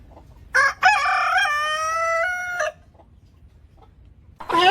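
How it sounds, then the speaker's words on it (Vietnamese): A rooster gives one loud, clear crow, a long drawn-out call of about two seconds, with a short clucking note before it, quiet background and the start of another call at the end. "Con gà trống."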